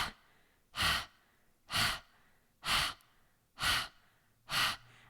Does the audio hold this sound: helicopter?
no